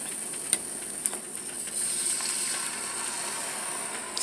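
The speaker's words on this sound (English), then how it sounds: "See how it's trying to boil over there?" Lemon ginger tea with loose tea leaves boiling hard in a pot, a steady steamy hiss and bubbling close by that swells as the pot nears boiling over, with a few sharp pops.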